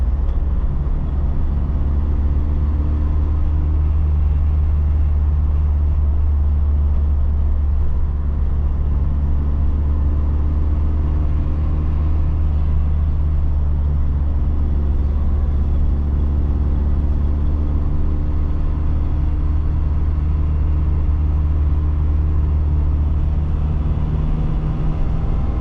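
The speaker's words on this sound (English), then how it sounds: "Never thought I'd drive a Scirocco, and I'm driving a Scirocco." A 1988 Volkswagen Scirocco 16v driving, its engine a steady low drone under constant road and cabin noise heard from inside the car, with no talking.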